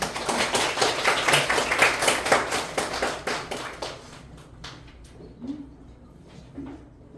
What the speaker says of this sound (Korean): 그럼 큰 박수로 에리얼 선생님을 모시겠습니다